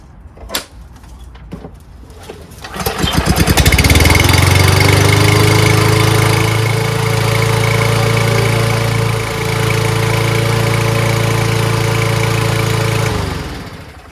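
A Poulan Pro push lawn mower with an auto choke is pull-started in a garage after sitting with old fuel: a few recoil cord tugs, then the small engine catches and runs loud and steady close by, with a brief dip before cutting off.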